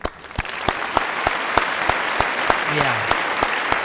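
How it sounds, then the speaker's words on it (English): A live audience claps in a steady, rhythmic beat, sharp regular claps over a bed of crowd applause, with a voice speaking briefly near the end. "would you just take a moment and clap with me for Clint's beard?"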